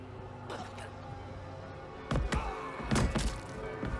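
Heavy hit thuds from Diablo IV, several dull impacts landing in clusters toward the end, moderately loud against a low background.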